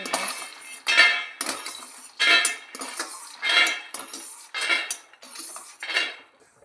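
Roasted peanuts are tipped into a dish in a kitchen, giving six or seven separate bursts of clinking and rattling at a steady pace, close up and fairly loud, with no talk.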